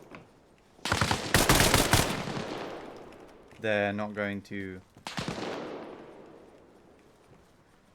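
Arma gunfire: a burst of loud, sharp gunshots crackles across the first seconds, followed after a pause by another shot that tails off with echo. Someone talks briefly between them.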